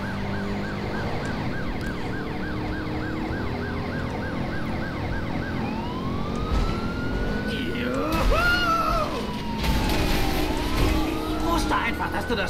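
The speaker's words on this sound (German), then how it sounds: "Bisschen mit Sirene fahren." A police siren in the video game Driver: San Francisco wails and yelps continuously over a revving car engine, with voices talking over it throughout.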